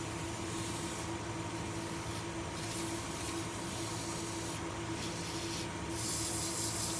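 A trash-to-treasure piece is sanded with 320 grit sandpaper in a steady, continuous rubbing hiss lasting several seconds, with brief brighter strokes now and then and no talk.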